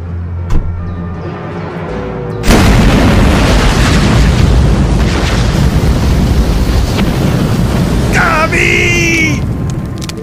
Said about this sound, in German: Die Wucht der Explosion war furchtbar.